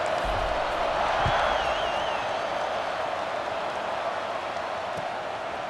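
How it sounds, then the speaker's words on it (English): A stadium crowd in a USC college football video game dynasty roars before a kickoff, a steady, wide wash of cheering that fades slightly toward the end, with a faint whistle-like tone near the start. "this crowd now ready to get behind them"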